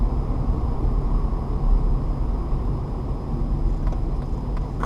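A manual-shift car drives through a U-turn, a steady engine and road rumble with broadband noise, close and constant throughout, no talking.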